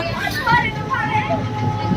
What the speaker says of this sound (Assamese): এয়া আমাৰ ট্ৰেইন গৈ আছে আগলৈ